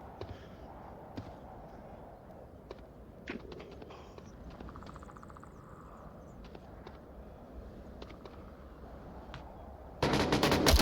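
Gunfire in a competitive VR shooter match, scattered distant pops and short bursts of shots over a low background hum, ending in a loud close burst.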